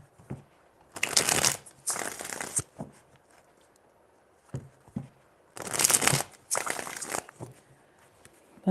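Tarot cards are riffled and shuffled by hand in four distinct bursts of crisp, papery flutter, with short quiet gaps between them and a few light taps.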